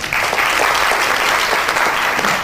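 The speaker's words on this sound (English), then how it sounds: "can I get a round of applause for everyone for this?" Loud, dense applause from an audience at a startup bootcamp event in Dhaka, a continuous roar of many hands clapping close by for the whole stretch.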